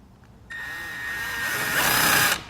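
A power drill drives a number 12 self-tapping screw into the side of a trailer, a steady whirring whine rising slightly in pitch and strain for about two seconds, then stopping abruptly, close and loud.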